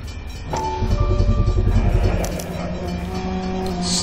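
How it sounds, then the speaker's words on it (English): A railway crossing in the L.A. Noire game rings with steady tonal bell-like tones under a low rumbling engine drone, moderately loud and continuous. "That railway crossing noise is really annoying now"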